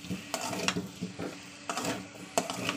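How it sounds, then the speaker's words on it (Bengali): Taro chunks being sautéed with spices in a pan for a Bengali katla fish curry, with soft sizzling and intermittent scraping stirs of a spatula against the pan, close and moderately quiet, no talking. "এবার আমি ভালো করে মশলার সঙ্গে কচুটাকে কষাবো।"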